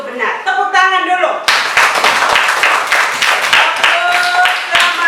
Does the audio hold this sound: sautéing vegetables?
no